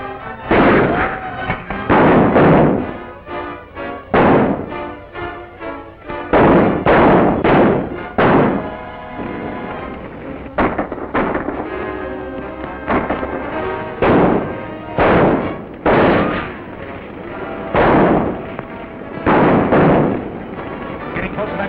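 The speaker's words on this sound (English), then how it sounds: "Shoot out that light." Gunfire in a 1939 shoot-out scene comes as loud, booming bursts of repeated shots and thuds. They come in clusters across the scene with old, band-limited film sound, and voices are heard in between.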